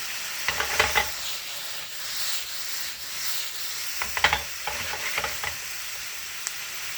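Blackened salmon fillet with homemade blackening seasoning frying in oil in a pan, a steady hiss of sizzling broken by two clusters of louder crackles and scraping stirs, close and without speech.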